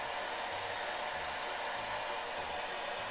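A hair dryer fitted with a narrow precision nozzle blows steadily and loudly for a few seconds, setting glue on hair with a constant rushing whoosh and no talk.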